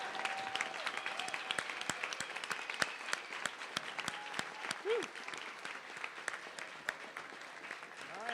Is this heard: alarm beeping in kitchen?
no